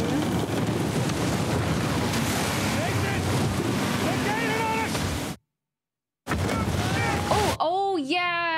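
Stormy ocean surf and wind roar in the video game Uncharted 4, a loud continuous wash of waves, cut by a brief silence, then a tonal game sound at the end.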